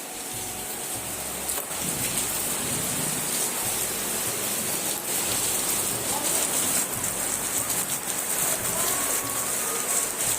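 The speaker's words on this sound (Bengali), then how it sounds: "কি পরিমাণ বৃষ্টি হচ্ছে মনে তো হচ্ছে না আজকে বৃষ্টি থামবে" Heavy rain pouring steadily during a flood, with a dense continuous hiss of water on surfaces that stays loud and unbroken throughout.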